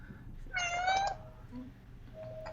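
A single clear cat meow, close and fairly loud, played as a ship's notification alert during a Mass Effect tabletop roleplaying session, followed by faint tonal hums.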